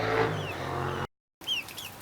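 Chickens cluck softly with a few chirpy calls nearby, interrupted by a brief moment of total silence partway through.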